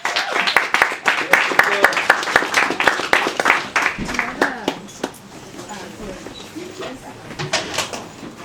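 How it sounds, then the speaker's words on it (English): Audience applause at an open mic comedy night in New York, dense clapping with scattered whoops filling the room for several seconds before thinning out, with some talk mixed in. "let's give Crystal Jessup a big round of applause, everybody."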